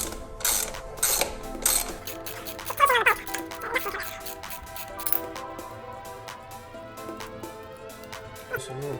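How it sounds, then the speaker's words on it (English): A wrench and tools working on the rear brake of a ZRX1200 motorcycle, with a nylock nut held in place: clicking ratchet and metallic clinks close up, fading to a quieter mechanical hum. "I'm going to have a wrench on the back here to hold it so it won't spin."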